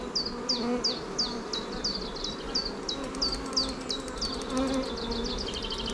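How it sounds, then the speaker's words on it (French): Honeybees buzz around an open production beehive in a steady, close swarm drone, with repeated rising whines of individual bees passing near against a constant background hum. "Puis il y a plein d'abeilles avec les pattes jaunes."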